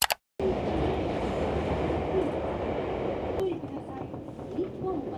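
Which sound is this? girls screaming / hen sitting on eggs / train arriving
train arriving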